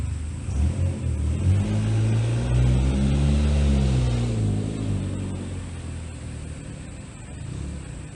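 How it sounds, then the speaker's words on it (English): A car roars past close by, its engine swelling and pitch sliding downward as it goes, then fading into a lingering low rumble. "This car passes loud."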